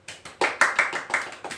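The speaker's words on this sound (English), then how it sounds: "Give applause." A small classroom group claps briefly: about nine sharp, uneven hand claps in quick succession, close and fairly loud, with no talking.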